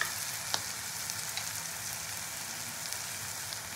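Chopped tomato going into a hot pan with frying lote fish for bhorta, giving a dense, even hiss of sizzling oil with occasional small pops, fairly quiet and with no talking.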